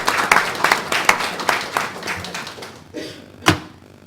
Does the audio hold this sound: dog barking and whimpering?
no